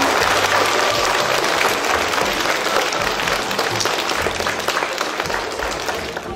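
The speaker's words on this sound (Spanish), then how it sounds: "por favor, un caluroso aplauso" Children clap warmly together in a hall, a dense, even wash of applause that holds steady throughout and tapers slightly at the close.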